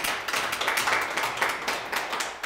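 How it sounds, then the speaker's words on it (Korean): Lecture attendees at a cultural heritage training course clap together, a soft, steady patter of many hands with no talking over it. "박수 한번 치셔. 스스로."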